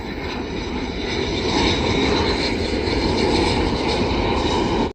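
Military aircraft coming in to land at an airfield near a parked camper van, a loud, steady engine roar that swells slightly and holds before cutting off abruptly, with no talk.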